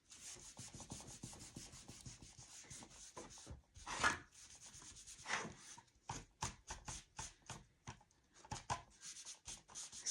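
A cloth rubs stain across a wooden frame in quick, irregular strokes, giving soft close scratchy swishes with short pauses between passes and no voices.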